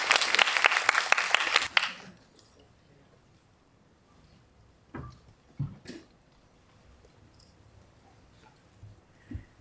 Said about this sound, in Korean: 박수로 오늘 게스트를 환영해 주시기 바랍니다.